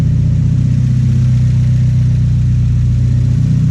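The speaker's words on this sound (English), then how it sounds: "we put a full exhaust on it, and it sounds awesome" An Integra engine swap with a GTX 3076 turbo and full exhaust runs loud and close, a deep, throaty exhaust rumbling steadily without pause.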